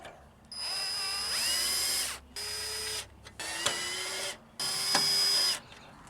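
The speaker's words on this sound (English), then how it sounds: "Put your screws back in for your trim ring." A power driver runs screws back into the headlight trim ring on a Jeep YJ. Four separate whirring bursts rise in pitch as each spins up, with short quiet gaps between them, heard close and alone.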